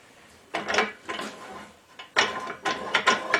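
Hand rollforming of a flanged double seam on tin, heard as several rough metallic grinding and ratcheting passes in short bursts with brief gaps, close by and fairly loud.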